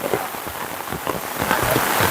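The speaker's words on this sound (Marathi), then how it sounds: "पाऊस काय जास्तच येतोय वाटतं आता" Steady rain patters on surfaces in a forest, a dense close hiss of drops that grows slightly heavier toward the end, with no voices.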